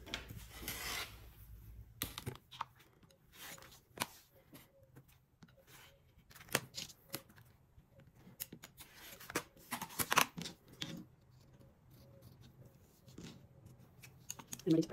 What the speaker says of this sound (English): I'm just going to go ahead and cut out the outside lines.